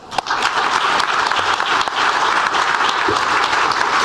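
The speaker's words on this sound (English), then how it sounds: "A loud applause for sir, please." At a surgical conference celebration, the audience applauds a guest with dense, continuous clapping from a large crowd. A few louder individual claps stand out, and a faint voice can be heard briefly.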